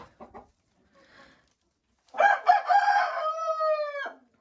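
Chickens on a backyard plot give a few short, soft clucks, then after a pause a rooster crows once, loud and close, a drawn-out call lasting about two seconds.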